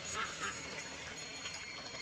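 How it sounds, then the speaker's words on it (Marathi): Ducks quack while spread out foraging near a flooded cotton field, a few faint calls early on over steady outdoor background noise. "बदकं सगळे पसरलेत खायला."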